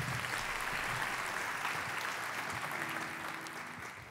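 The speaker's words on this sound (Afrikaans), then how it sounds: "Kom ons gee vir hulle lekker hande klap." Clapping hands of a church congregation at a worship service, a broad sustained round of applause that fades slightly toward the end, with no voices standing out.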